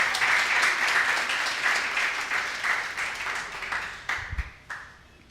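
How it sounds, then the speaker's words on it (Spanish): A church congregation applauds in a dense, steady burst of clapping that thins into scattered claps and fades out toward the end. "Démosle un aplauso al Señor en esta hora."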